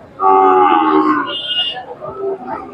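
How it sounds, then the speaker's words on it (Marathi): A Khillar animal at a busy cattle market in Sangola, Solapur, gives a single loud, close moo that rises and then trails off over about two seconds. "खिल्लार गाय, बैल, म्हैस, शेळी, मेंढी, बकऱ्यांचा बाजार मोठ्या प्रमाणात भरतो"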